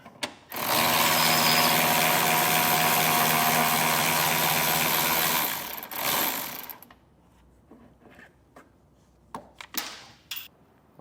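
A ratchet-type power tool removes a 10mm fastener from an inner panel on a Jeep while a Curt custom base plate kit is being installed. It whirs loudly and steadily for about five seconds, then stops, leaving scattered clicks and handling noises.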